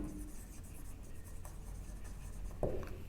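Pen scratching across paper as a notice is written out during a class lesson, soft and close, with a steady room hum beneath and a brief louder scrape near the end.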